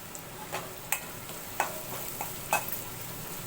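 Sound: stirring peanut powder being sautéed in oil

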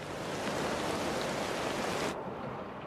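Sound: rain falling, sound design for the series Dark

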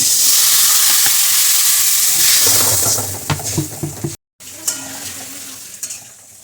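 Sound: water added to frying potatoes and taro, sizzling

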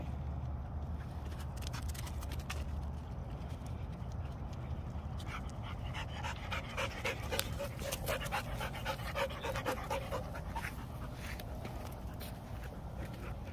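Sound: Great Dane dogs panting

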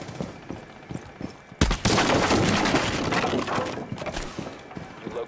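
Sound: gunfire in the video game Rainbow Six Siege

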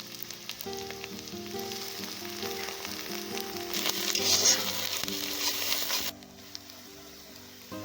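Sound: frying onion with garlic and ginger

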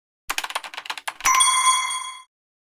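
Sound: ding-dong chime sound effect

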